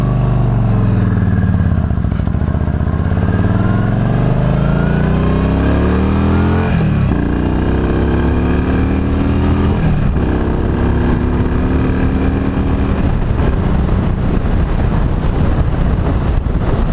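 A Yamaha V Star motorcycle accelerates hard through several gears, its engine note climbing, dropping at each shift and climbing again, loud and close with steady wind rush over the microphone.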